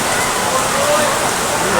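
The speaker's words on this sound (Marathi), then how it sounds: "आता पावसाचा पण आगमन झालं आहे" Loud, steady rain hissing on surfaces nearby in a crowd at a railway station in the Konkan, a dense continuous wash with a faint murmur of voices beneath.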